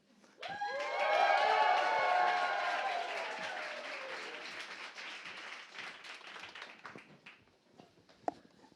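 A conference crowd at a Startup Grind event in DC bursts into applause and cheering that swells quickly, peaks, then thins into scattered claps and fades.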